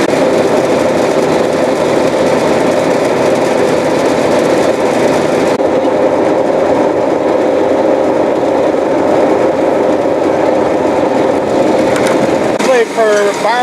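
A combine harvester runs steadily while harvesting barley, giving a loud, continuous machine drone with broad mechanical rumble throughout, and a brief rattling change near the end.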